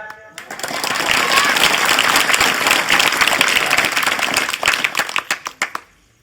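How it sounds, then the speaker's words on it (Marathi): An audience at a Shivaji history lecture claps loudly and vigorously, a dense wash of applause that builds quickly, holds, then breaks into a few scattered final claps before fading out. "टाळ्या वाजवायच्या तर मर्दासारख्या"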